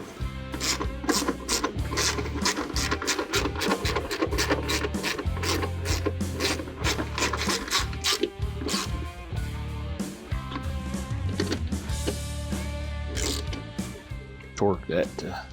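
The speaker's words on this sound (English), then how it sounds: "Torque that to correct spec." Stainless steel tech screws on a Pontiac GTO dash being tightened with a torque wrench, giving repeated close ratcheting clicks in quick bursts with some rubbing, continuing alone throughout.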